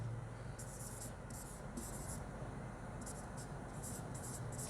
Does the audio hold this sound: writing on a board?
yes